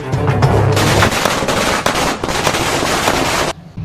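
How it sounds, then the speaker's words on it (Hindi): Rapid volleys of firecrackers burst at close range after Eid, a dense crackling barrage that runs continuously for several seconds before cutting off abruptly. "पटाखे फोड़ने बंद करो यार।"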